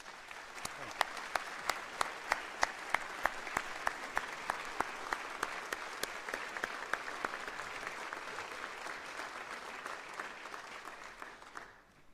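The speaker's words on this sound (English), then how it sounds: "Judy Batiste, would you please stand and get a round of applause?" Legislators and guests in the Louisiana legislative chamber give a round of applause for a DCFS adoption specialist, with sustained clapping and sharp individual claps standing out, lasting about twelve seconds before fading.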